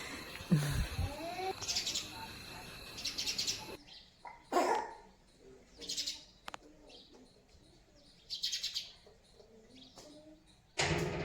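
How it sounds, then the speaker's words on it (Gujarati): House sparrows chirp in short scattered bursts around a ceiling fan indoors, thin and bright, with some calls near and others fainter, separated by quiet gaps. "આ ચકલિયું જોવો કેવી ફરફદુડી ફરે છે પંખા ઉપર"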